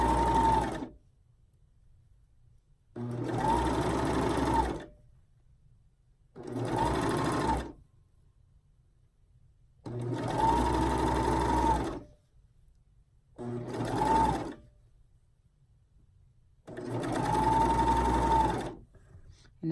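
A sewing machine stitches a reversible scoop bikini in six separate bursts of steady whirring, each a few seconds long, with quiet pauses between, close and loud, no voices.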